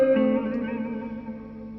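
A 1984 Roland JC-50 amp with its digital reverb turned all the way up sustains a guitar chord that rings and slowly decays into a smooth studio-style tail, played alone.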